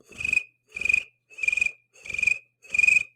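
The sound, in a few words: person imitating a cricket chirping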